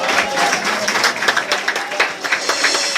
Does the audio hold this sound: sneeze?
no